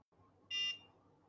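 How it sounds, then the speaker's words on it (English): A single short electronic beep from a NuFace facial toning device, clear and bright over faint background noise, lasting about a quarter second. "Same thing, you just wait for the beep."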